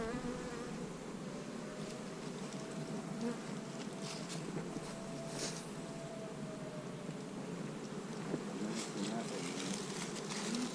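Honey bees drone steadily inside an open hive during a colony split, a dense close buzz holding even loudness throughout with no talk over it.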